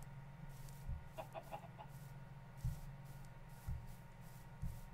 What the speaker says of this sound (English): Get some of these chickens while we're at it.